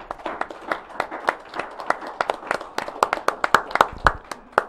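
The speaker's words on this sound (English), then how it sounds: "Give her a round of applause, please." A small audience at a local talk show gives a round of applause, distinct individual claps in a loose, sparse rhythm heard close and moderately loud, without talk.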